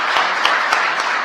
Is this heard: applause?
yes